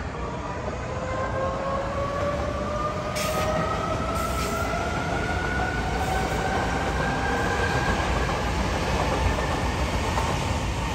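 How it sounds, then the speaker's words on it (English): A train pulls in beneath a cultural building in Medellín, a loud, steady roar with rising whining tones and wheel squeal carrying on throughout, heard up close without any talking. "And here comes the train."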